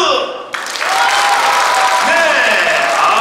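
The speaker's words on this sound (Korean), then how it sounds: "박수." Applause from a concert audience at a trot music show in a cultural hall breaks out suddenly and continues as steady clapping, with voices speaking over it.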